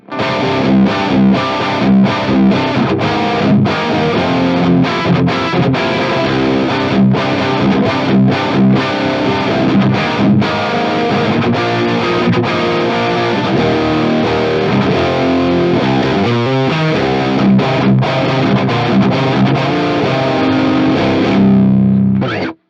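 Heavily distorted electric guitar plays a continuous dense riff, loud and saturated, with strummed chords and a brief slide near the end.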